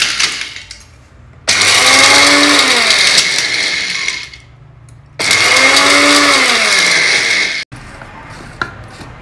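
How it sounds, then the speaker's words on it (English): Dry grinder powdering roasted spices for a South Indian green chilli pickle, running in two loud whirring bursts of a few seconds each with quieter gaps between, close and alone. "then we'll make it into a powder in a dry grinder"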